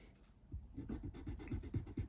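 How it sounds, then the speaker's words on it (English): Thin strips of sandpaper rasp across a Stratocaster guitar's lacquer finish in quick, rhythmic back-and-forth strokes, close and fairly quiet, starting after a brief pause. "he does something called strip sanding, and that's where I got the idea of thin strips of sandpaper"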